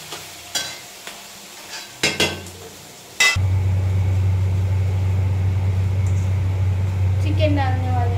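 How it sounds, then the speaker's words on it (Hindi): Onions and green chillies fry until browned for a chicken dish. A few sharp clatters and scrapes come first, then a loud, steady close sizzle with a low hum, and voices are heard briefly. "अब इसको ब्राउन होने तक भूनेंगे"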